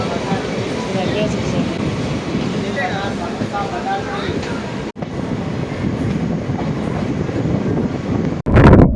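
A Salem–Vriddhachalam DEMU train rolls into Attur station with a loud, continuous rumble of wheels and engine, close by, ending in a sharp burst of noise.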